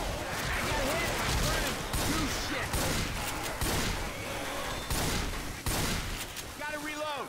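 Dense, continuous gunfire from several weapons in Left 4 Dead 2 rattles on throughout, sharp repeated shots layered under talking voices, with a brief lull near the end.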